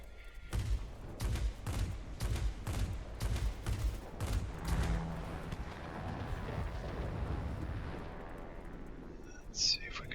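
Rapid bursts of aircraft cannon fire from a Lockheed XP-58 Chain Lightning in World of Warplanes, loud repeated volleys over a continuous engine drone, easing into steady engine noise with a brief high whistle near the end.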